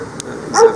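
A dog barks once in a city street, a short mid-pitched yelp standing out near the end over steady urban background noise.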